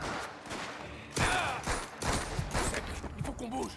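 Gunshots in Mafia: The Old Country crack in a quick ragged volley, loud and close, over a dense wash of game noise while someone talks.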